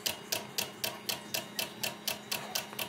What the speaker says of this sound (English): And you hear the clicking. Every 180 degrees it clicks, that becomes a motor.